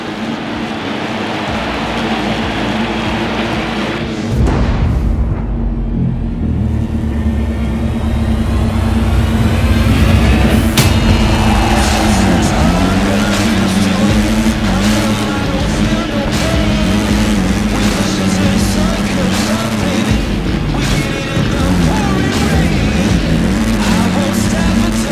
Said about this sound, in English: The roar of the engines is deafening.